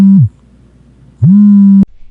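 A mobile phone vibrates with two buzzing pulses, a short one and then a longer one after a pause of about a second. The steady low drone is loud and close, with no talking.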